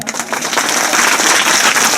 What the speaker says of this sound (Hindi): तो फिर इनके लिए तालियां बजाओ